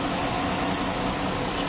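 A 3.6 liter Pentastar V6 with variable valve timing runs steadily in a 2017 luxury car, a dense, constant broadband engine roar with no pauses and no voices.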